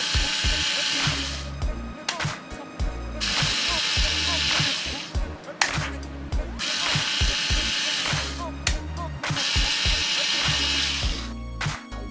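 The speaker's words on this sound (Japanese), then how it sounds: "今回使ってるコードレスの電動ドライバーですけれども、こっちが今回す方なんですけれども、こう緩める方にももちろんできます。" A cordless electric screwdriver whirs in repeated bursts of a few seconds each, separated by short pauses, loud and close, used during a camp DIY project building a wooden rack.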